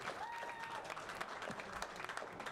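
Steady applause from an audience at a tech startup meetup fills the room, dense clapping throughout with a brief whistle near the start.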